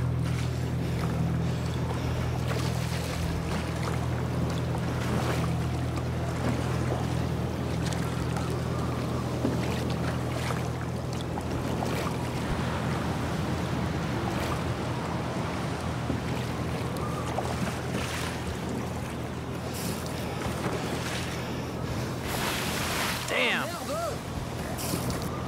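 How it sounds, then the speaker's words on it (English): Heavy ocean swell and wind roar around sea kayaks far out in cold, icy water, a steady dense wash of sea and wind noise with a low rumble throughout. "Our kayaks aren't made for being out so far at sea with waves like this in such cold water."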